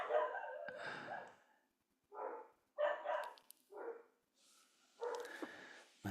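A female dog barks indoors in loud, spaced bursts, several sharp barks in a row with short pauses between them and some panting breaths, fairly close.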